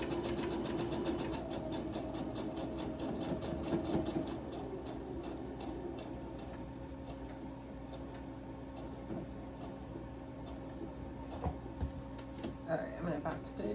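A sewing machine back stitches thread into fabric, its rapid mechanical ticking running steadily up close, then slowing and stopping near the end, with a person talking over it.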